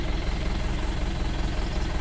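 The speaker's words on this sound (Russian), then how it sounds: "Включил мотор" A safari vehicle's engine idles steadily as it slowly reverses through Sri Lankan elephant parkland, a close, even low rumble with a faint knocking pulse.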